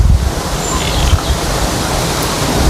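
Wind buffets an outdoor microphone with a loud, continuous low rumble and roar that swells and dips slightly, with no clear voices over it.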